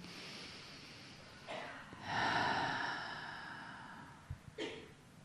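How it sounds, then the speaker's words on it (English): A slow, deep breath drawn in and let out during a guided meditation, a soft rushing inhale swelling then fading into a long exhale, close and quiet. "Take a big breath in. Let it out. And again, big inhale."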